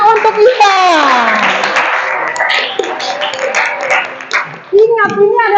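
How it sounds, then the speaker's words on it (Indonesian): Clapping from a classroom group of students at an Indonesian teacher-training session, with steady children's voices and chatter running throughout the few seconds. "Tepuk tangan untuk Ipan."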